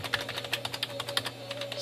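Fast, uneven typing on an old computer keyboard at a 486 PC, a steady patter of close, fairly quiet clicks over a low electrical hum.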